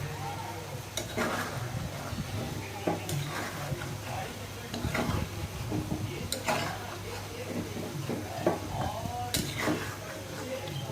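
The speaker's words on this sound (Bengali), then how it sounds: "আমি একটু ভালো করে ওলট পালট করে দিচ্ছি" Small fish cooked with olives sizzling in a pan while being turned over, with repeated scraping and clinking of a utensil against the pan and a soft fry underneath throughout.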